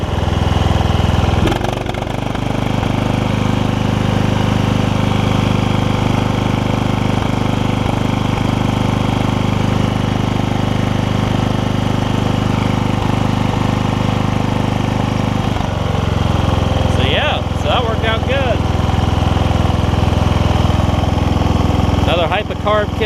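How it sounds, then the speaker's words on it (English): The engine of a Toro Wheel Horse 1232XL hauler tractor, fitted with a new Hipa carburetor and a new plug, runs steadily with a loud, even chugging. Someone talks over it in places. "We fixed this Toro hauler tractor with some Hipa parts, a Hipa carb."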